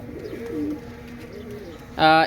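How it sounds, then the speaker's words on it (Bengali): A pair of Pakistani high-flying pigeons coos softly at close range over a low room hum, ending in a louder, bright burst of calling. "এই কবুতর জোড়া এই আজকেই প্রথম হচ্ছে ক্যামেরার সামনে আনলাম"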